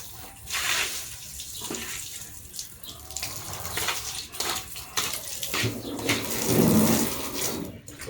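Water gushes from a hose or tap while a cattle pen floor is washed, a close, steady splashing rush with brief pauses and surges.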